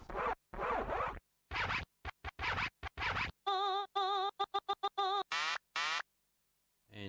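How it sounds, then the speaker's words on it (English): Yamaha PSR-160 keyboard in DJ mode firing a run of scratch sound effects: bursts of rubbery record scratching, then short choppy stabs and a tonal wobbling scratch, loud and close with brief gaps, no talking. "in DJ mode, the drum sounds change into a whole lot of DJ sound effects"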